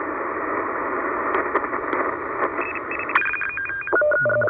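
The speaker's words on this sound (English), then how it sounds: "Some more radio teletype. Sounds like the one from the U.S. Navy." Steady shortwave radio static around 8.6–8.7 MHz carries bursts of warbling, stepping radio teletype data tones, a machine-like digital signal buzzing over the noise without any speech.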